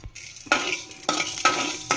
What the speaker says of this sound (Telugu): ఇప్పుడు ఒక 1/4 అంతా మెంతులు టీ స్పూన్లో వేయించుకుందాం.